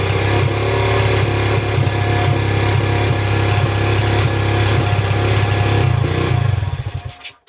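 A pit bike engine idles fast with no chain fitted, running free in a loud, steady buzzing drone up close that holds evenly before sputtering and dying away at the end.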